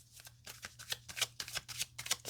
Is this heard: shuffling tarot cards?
yes